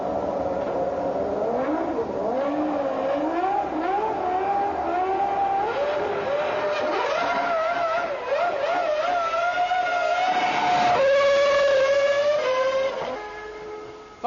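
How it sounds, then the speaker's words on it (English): A high-revving race car engine climbs and holds on the rev limiter with a whining, wavering pitch, then surges louder as the clutch drops and the wheels spin at launch, fading slightly at the end. "All the revs on the rev limiter, drop the clutch, spin the wheels"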